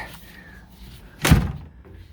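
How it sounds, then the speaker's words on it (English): A car door on a Corvette is pulled shut with a single solid thud, near and brief, against a quiet background with no talk. "let me close the door just in case"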